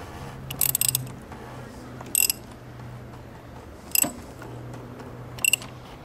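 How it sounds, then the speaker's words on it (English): A 27mm ratchet snugs down the oil filter housing on a Mercedes, giving four short, crisp bursts of rapid clicking separated by pauses over a quiet, humming background. "then we're going to snug it up with our 27mm ratchet."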